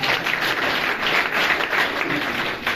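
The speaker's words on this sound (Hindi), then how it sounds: "जबरदस्त तालियां साहब।" A seated audience at a business plan presentation applauds with dense, continuous clapping that stays loud and even throughout.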